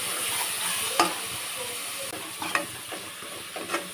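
Garlic paste sautéing in a pan while cooking Ambur-style chicken biryani, giving a close, continuous hissing sizzle with a few sharp stirring scrapes scattered through it.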